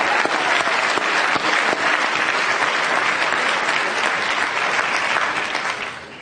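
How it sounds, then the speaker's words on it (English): A big commencement crowd at King School's 2017 ceremony claps in a loud, sustained wash of applause that holds steady before easing off slightly at the close. "Round of applause is in order."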